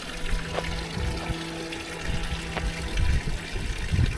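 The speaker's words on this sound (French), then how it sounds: "Regardez les amis, petite fontaine là." A small outdoor water fountain in the Pyrenees mountains trickles and splashes steadily, a soft, continuous running-water sound with a low background rumble and occasional faint knocks.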